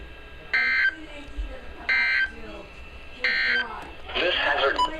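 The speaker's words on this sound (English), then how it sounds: "this has been a weekly test of the NOAA All Hazards Radio Public Warning Alarm System" Three loud, steady electronic alert tones from a NOAA weather radio weekly test, each lasting about half a second with short gaps between them, followed by a noisier burst of the same signal.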